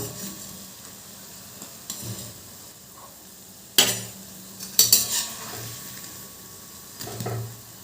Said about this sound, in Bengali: এবার এরকম উল্টে পাল্টে লাল লাল করে ভাজতে হবে